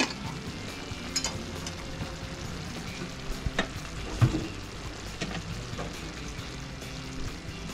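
Meatballs sizzle and crackle steadily as they fry in a pan, with occasional stirring clinks and scrapes over the continuous hiss.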